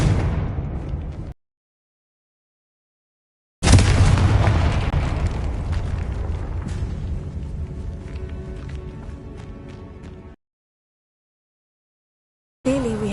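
A Confringo fire-blast spell going off in Hogwarts Legacy: a heavy booming explosion with a long rumbling, crackling decay, followed by a second blast cut short at the end, with silence between them.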